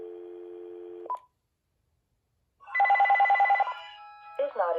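Panasonic or Uniden 2.4GHz digital cordless phone line, a held tone ending in a click, a pause, then a rapid run of keypad dialing tones and a brief burst of a recorded voice.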